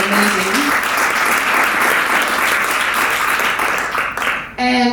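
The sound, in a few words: applause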